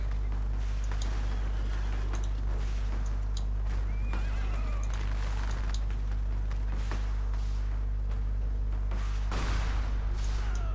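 Dragoon cavalry horses in the strategy game Cossacks 3 whinny and neigh repeatedly over clip-clopping hooves, with scattered gunfire cracks and a constant low background hum.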